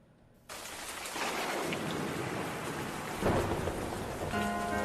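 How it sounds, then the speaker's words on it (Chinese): Heavy rain bursts in abruptly after a brief quiet moment, a loud, dense roar with a rumble of thunder swelling midway. Faint tonal music creeps in near the end. "我现在听到那个落雨声"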